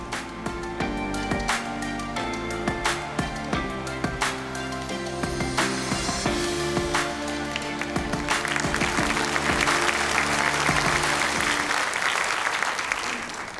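At an MLK celebration and day of service, music with sharp accents plays first, then a swell of loud, continuous crowd applause for student leaders rises and tapers off.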